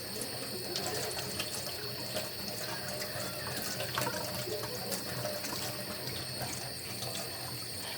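Water runs steadily from a tap as a jar is rinsed out, producing a continuous close splashing hiss with small gurgles throughout.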